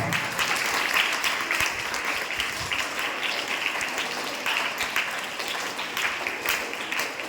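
Sustained applause from an audience welcoming an honoured guest at a health sciences young scientists meeting, steady dense clapping filling the whole stretch without voices.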